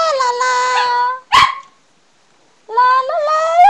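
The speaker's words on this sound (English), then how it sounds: "I have a singing dog." A dog howls in drawn-out, wavering tones, with a sharp yelp in the middle, a pause of silence, then another sustained howl rising in pitch, loud and close.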